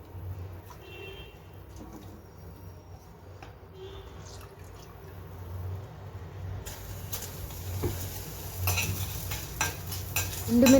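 Tamarind frying with dried red chillies in a pan for a Telugu home lunch, a soft sizzle under repeated stirring and scraping clinks that grow louder toward the end.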